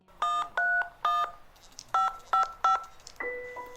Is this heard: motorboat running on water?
no